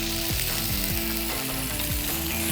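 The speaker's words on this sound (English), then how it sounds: "Now it's time to add the shrimp. Can you hear that sizzling?" Shrimp sizzle loudly in a hot frying pan as they cook for blackened shrimp with grits. The hiss is dense and continuous, with repeated clicking, ratchet-like crackles running through it.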